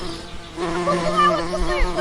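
Bees buzz close by in a steady, droning swarm, the pitch wavering as insects move around, with no voices.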